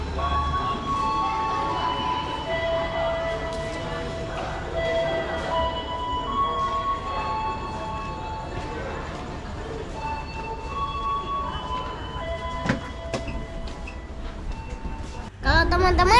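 Inside the Pariaman Express train in West Sumatra, a steady rail rumble runs under someone talking, with faint clicks and a louder rattle near the end.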